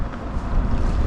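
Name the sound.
wind blowing while kayak fishing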